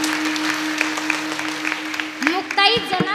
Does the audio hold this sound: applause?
yes